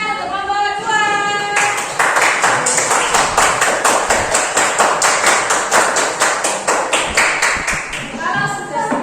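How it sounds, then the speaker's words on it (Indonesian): A classroom group of students claps for their classmates' group in a steady, brisk run of handclaps that starts after a brief voice and fades near the end, with a voice returning at the close. "Beri tepuk tangan untuk kelompok 2."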